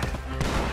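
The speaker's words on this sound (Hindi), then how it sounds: "गोलियां पड़ रही हैं चारों तरफ से" Gunshots in Red Dead Redemption 2 sound as a dense, loud, continuous volley filling a short moment, with shots overlapping from nearby.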